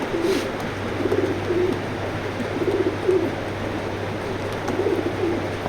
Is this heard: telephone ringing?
no